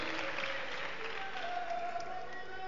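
Applause from a church congregation at a Spanish-language evangelical service, a steady dense patter of clapping filling the room, with a faint murmur of voices mixed in.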